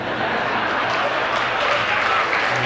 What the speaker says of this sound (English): Finally, the audience has to clap.